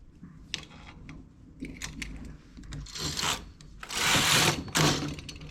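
A hand-operated domestic knitting machine being worked, its carriage sliding across the needle bed in bursts of mechanical rattling and whirring, louder swipes near the end, close by with no talk.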